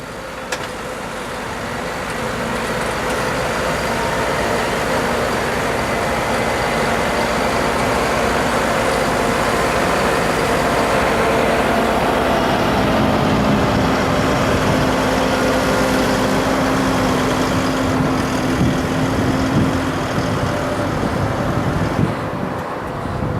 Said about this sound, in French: notre présentateur, il s'en vient dans le tracteur